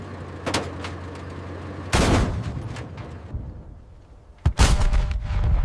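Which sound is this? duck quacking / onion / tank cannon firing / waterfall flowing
tank cannon firing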